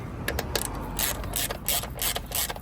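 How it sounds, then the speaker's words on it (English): A ratchet clicking in short rapid bursts while tightening an exhaust fitting on a KTM 1290 Super Adventure motorcycle, close and crisp, with no talking. "So we'll just nip that in place there and then tighten this one up fully."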